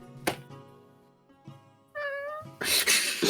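A cat meows with a rising, clearly harmonic call, heard close and alone against a quiet room with a few soft knocks, followed by a burst of broadband noise.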